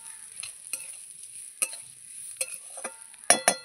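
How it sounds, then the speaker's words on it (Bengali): Rice for pulao being stirred and fried in a pan, quiet sizzling punctuated by a series of sharp scraping and clinking strokes of a spoon, two louder knocks near the end. "এই যে চালটা দিয়ে ভালো করে একটু নেড়ে চেড়ে তারপরে কিন্তু আমি জল দেব"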